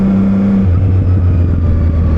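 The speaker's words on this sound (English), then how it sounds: "Just listen to that exhaust note. How nice does that sound? Proper little sports bike." A 2025 CFMoto 675 SR-R sports motorcycle's exhaust hums in a steady, loud drone while it is ridden, and the pitch drops partway through.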